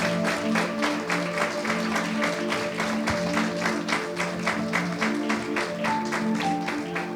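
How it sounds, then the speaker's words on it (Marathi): Church congregation clapping in thanks during a Sunday sermon, a steady dense patter of many hands sustained throughout, with music-like tonal drones underneath. "टाळ्या वाजवत प्रभूला धन्यवाद देऊयात"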